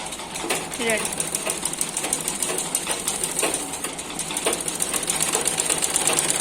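A sewing machine stitching a dhoti salwar runs in a continuous, fairly loud mechanical whir with faint rhythmic ticking throughout, steady and close.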